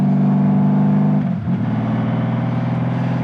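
A Honda Valkyrie motorcycle engine runs loud and close, dipping briefly in the middle before picking back up into a steady, rich rumble with no talking.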